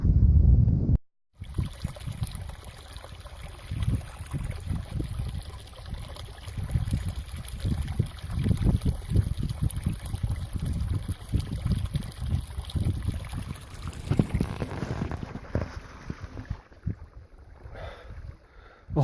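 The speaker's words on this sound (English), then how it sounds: "hopefully the sound of the water comes through in the video" Steady rushing water of a mountain creek in Idaho's Sawtooth Mountains flows throughout, a continuous broadband wash with a brief dropout near the start, close and fairly loud.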